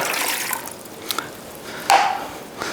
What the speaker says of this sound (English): So we start with the water.